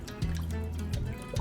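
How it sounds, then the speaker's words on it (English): Wine pours into a glass at a kitchen table, a close liquid gurgle rising in short bursts with brief pauses between them, with no voices over it. "So I suppose I will be required to pour wine."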